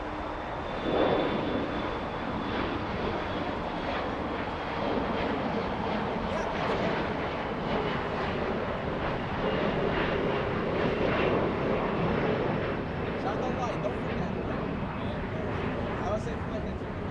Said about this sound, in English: We'll follow Little Volaris as it goes to runway 25 right for takeoff.